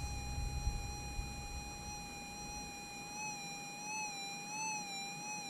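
A Minelab SDC 2300 metal detector tone over a small 0.8 gold nugget: a continuous, quieter high-pitched whine with gentle wavering toward the end, over low rumbling handling noise early on, no speech.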